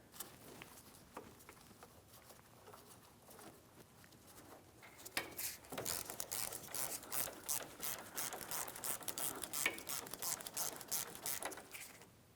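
Rapid clicking of a ratchet tightening the bolt on a power steering pressure line of a 2007-2014 Ford Edge, starting softly and then becoming a dense, continuous close-up ratcheting burst with no talking.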